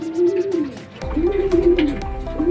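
Racing pigeons cooing at the loft during a derby arrival, soft repeated coos close by with people speaking over them.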